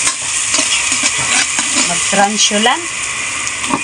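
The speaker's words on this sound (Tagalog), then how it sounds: "Haluin lang natin mga kumari hanggang sa" Food sizzles loudly in a pan as it is stirred while tilapia is being cooked, close and crackling, with spoon scrapes and someone speaking over it.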